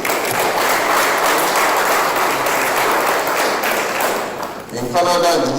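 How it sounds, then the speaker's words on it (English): Audience applause at an academic induction ceremony, a dense sustained crowd clapping that fills the clip, loud and steady, thinning slightly near the end as a voice begins. "A round of applause for him, please."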